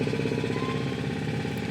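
A tractor engine runs steadily in the background, a continuous low throbbing rumble with no breaks or speech over it.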